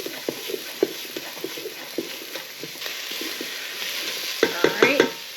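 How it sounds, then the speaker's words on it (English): Onions sautéing in a pan for beef burgundy, a steady broadband sizzle with repeated utensil scrapes and stirring clatters, busier toward the end. "or all of the onions, saute those for a minute."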